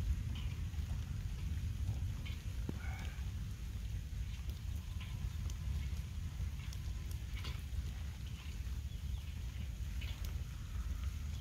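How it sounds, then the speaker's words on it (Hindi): Steady patter of light rain with scattered individual drops ticking nearby over a soft low rumble, continuous and fairly quiet. "हल्की हल्की बारिश हो रही है"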